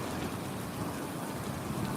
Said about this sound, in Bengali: বৃষ্টির লাইনগুলো একটু লাইন লাইন করে কীভাবে বৃষ্টি পড়ছে